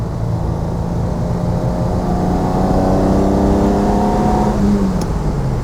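A 1966 Ferrari 330 GTC with its V12 engine runs steadily and loudly nearby, a continuous engine drone rising slightly in pitch midway as it revs, with no voices.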